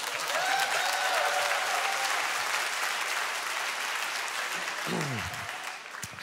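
An audience at a church summer Bible school service breaks into loud, sustained applause and cheering that fills the room, then gradually tapers off.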